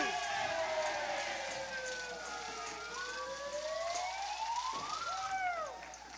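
Wailing emergency vehicle siren with rising and falling sweeps, fairly loud and steady throughout, heard over a busy outdoor background with faint voices.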